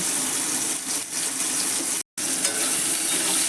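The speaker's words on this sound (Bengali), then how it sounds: "ফোড়নে আমি সামান্য একটু গোটা গোটা জিরে দিচ্ছি পেঁয়াজগুলো দিয়ে দিলাম এখানে" Chopped onions and whole cumin seeds fry in hot oil as a tempering for a goat meat curry, a dense, continuous sizzle close by with stirring, broken by a brief cut of silence.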